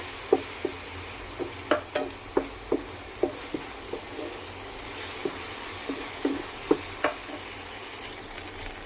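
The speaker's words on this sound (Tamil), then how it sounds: "தக்காளி போட்டாச்சு. தக்காளி நல்லா வதங்கி வரட்டும்." Chopped tomatoes sautéing in a pan give a soft continuous sizzle, with sharp taps and scrapes from a spatula at an irregular pace, close by and without speech.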